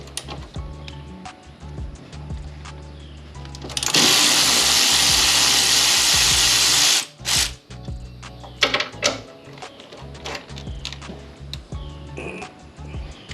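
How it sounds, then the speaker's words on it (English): A cordless battery ratchet works on strut tower nuts of a Nissan 350Z drift car, one loud sustained whirring buzz lasting about three seconds, set against quieter clanks and a low steady background. "Got the handy dandy battery ratchet."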